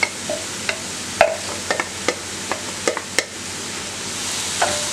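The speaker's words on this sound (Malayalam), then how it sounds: "നല്ല ഇളക്കി യോജിപ്പിക്കുക." A utensil stirs spicy beef curry in a pan, giving a series of distinct scraping clacks against the pan over a soft sizzle, close and fairly quiet with irregular strokes.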